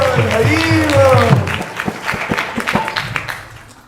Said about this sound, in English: So big round of applause for Mataji.